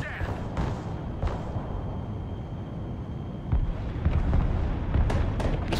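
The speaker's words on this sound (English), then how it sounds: "Pushing us with artillery." Artillery explosions in the real-time strategy game Broken Arrow make a continuous heavy rumble, broken by a few sharper blasts. The bombardment grows louder toward the end.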